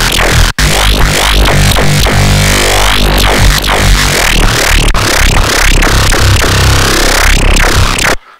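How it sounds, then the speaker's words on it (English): Squelchy dubstep bass from a Spire synth with shaper distortion, a loud, gritty, constantly wobbling growl with rhythmic throbbing sweeps and brief dropouts, running continuously for about eight seconds with no talking. "Let me turn on the shaper so we can hear how the distortion affects that."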